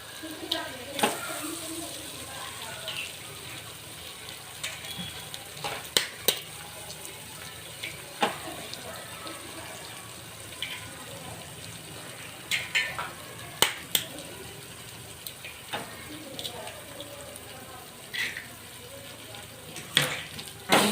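Eggs go into a pan of sizzling tomato and onion for egg bhurji, a soft continuous frying hiss broken by scattered sharp clicks and taps, fairly quiet and close.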